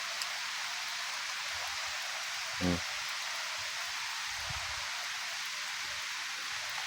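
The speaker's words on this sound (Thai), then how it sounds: "ฝนตกอีกแล้วพี่น้องเอ้ย" Rain falls steadily on a farm, a constant soft hiss with no breaks. A single brief knock or clatter cuts through near the middle, and a faint low thud comes later.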